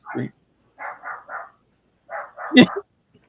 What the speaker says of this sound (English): Charlotte, are you barking?